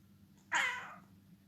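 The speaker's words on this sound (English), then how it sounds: "Say hello to my cat Belle." A single clear cat meow, fairly loud and close, rising out of a quiet room and trailing off after about half a second.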